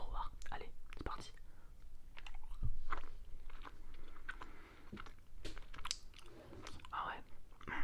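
Pink Disneyland Paris candy is bitten and chewed close up in an ASMR mukbang, with soft crunches and wet chewing in irregular bursts under quiet whispering.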